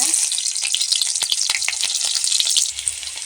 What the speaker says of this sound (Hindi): चलिए अब हम भूनते हैं भुजिया।